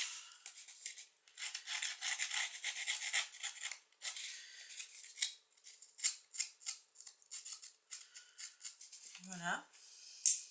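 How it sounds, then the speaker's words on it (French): Scraping all around the surface of a small ATC card and its box, raspy scratching strokes in uneven bursts, fairly close and quiet, with a brief voice near the end. "Donc, je gratte tout autour"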